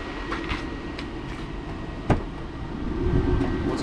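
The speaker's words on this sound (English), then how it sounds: "You guys can hear the condenser on the outside." A van's air conditioner condenser running outside, giving a steady broadband whir and hum with a faint tonal whine, heard close with a slight swell near the end.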